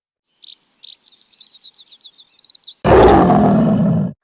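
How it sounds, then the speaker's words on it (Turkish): Chirping birds tweet in a quick, thin series, then a lion lets out one loud, deep, rumbling roar that lasts over a second and fills the scene, with no voices. "İşte bu ormanın kralı aslanın kükremesi."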